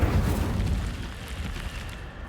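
An Incendio fire spell cast in Hogwarts Legacy, a single low booming fiery burst at the start that fades over about two seconds.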